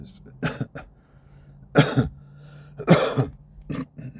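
Several harsh coughs in separate bursts, close to the microphone, with brief gaps of quiet between them.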